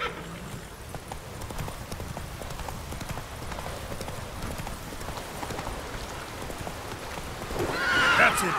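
Roach the horse gallops in The Witcher 3, a continuous rapid drumming of hooves with a neigh rising near the end, all at moderate level under faint game ambience.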